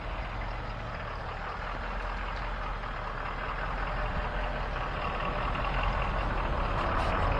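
A Ford pickup truck engine idles close by, a steady, rumbling, constant low drone with no voices over it.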